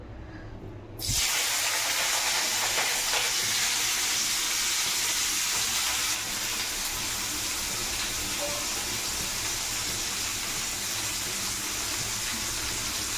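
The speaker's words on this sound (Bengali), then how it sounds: "পেঁয়াজটা এখন ভাজতে দিয়ে দেবো কড়াই তেল গরম হয়ে গেছে অলরেডি" Onion dropped into hot oil in a wok: after a quiet start, a sudden loud, dense sizzle bursts in and holds steady, easing slightly halfway through, with no talking.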